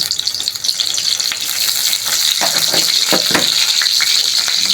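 Cumin seeds frying in a pan, a steady loud sizzle with a bright hiss and a few crackling pops, no voice over it.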